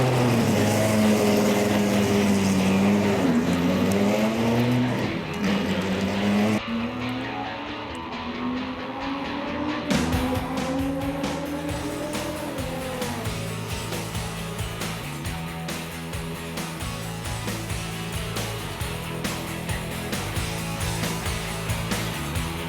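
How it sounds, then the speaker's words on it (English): A Dodge Viper GTS/R two-seater Grand Touring race coupe with an 8-litre 615-horsepower V10 roars loudly throughout, its engine note rising and falling through gear changes with a steady harsh mechanical drone, no voices. "The 8-litre V10 engine produces a stupendous 615 horsepower"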